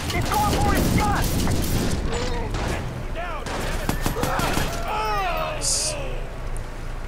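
Gunfire in a campaign-mode video game, rapid bursts of shots and booms layered over music and effects, with a person talking throughout.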